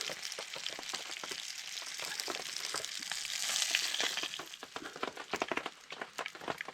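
Sausages frying over a campfire at an Australian bush camp: dense, crackling sizzle with rapid spitting pops, steady and close, swelling slightly midway, no talking.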